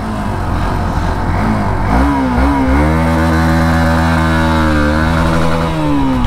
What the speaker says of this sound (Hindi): लॉन्च करते हैं एक बार बाइक को।